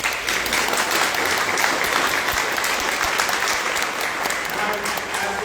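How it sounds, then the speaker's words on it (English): An audience at a community discussion forum applauds its panel members, a loud, dense and even wash of clapping that holds steady throughout. "please give these panel members a round of applause"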